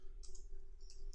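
Computer mouse clicks while a form is built in GIS data-entry software: two short, crisp click pairs sit alone against a steady low hum, close and fairly quiet.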